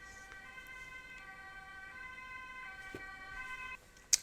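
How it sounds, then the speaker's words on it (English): An ambulance siren passes slowly at a distance, its steady wailing tones drawn out under faint background hiss for several seconds before fading, with a brief sharp click at the very end. "an ambulance passed quite slowly"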